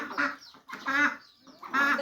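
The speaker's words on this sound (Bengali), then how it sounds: "দেখুন হাঁসগুলো বর্ষার দিন তাড়িয়ে নিয়ে আসলাম।" Domestic ducks herded in on a rainy day give several close, loud nasal quacks in short bursts with brief pauses between them.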